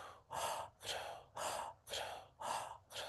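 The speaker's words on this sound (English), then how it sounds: "inhale from the mouth and exhale from the mouth" Forceful breaths drawn in and pushed out through the mouth, six loud, even breath bursts in a steady rhythm, close and alone with no talking.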